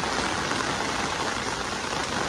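Heavy rain pours steadily in Mumbai, a dense, even hiss of falling water with no let-up, loud and close throughout, with no voices.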